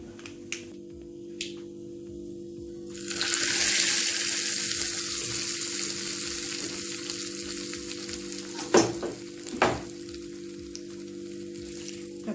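Hot mustard seed tempering is poured over pachadi in a bowl, setting off a loud burst of sizzling and crackling that gradually dies down. A few sharp clinks and taps follow near the end.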